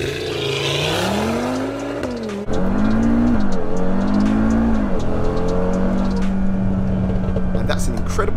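A Stage 2 Audi revs at the line, then launches hard on a 0-60 acceleration run, the engine note rising loud and close through quick gear changes, with possible tire noise.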